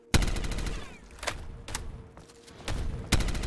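Automatic gunfire in Call of Duty Black Ops 3 Zombies on a custom courtyard map, with loud sharp bursts and repeated shots separated by short pauses.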